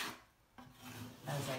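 A drywall patch on a wall is smoothed over with joint compound, giving two soft, close scraping strokes with a brief quiet gap between them.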